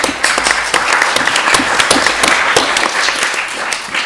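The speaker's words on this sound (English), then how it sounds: "Never had so much applause at one of these things before." An audience at an economics conference applauds loudly and steadily, dense clapping up close that carries on evenly throughout.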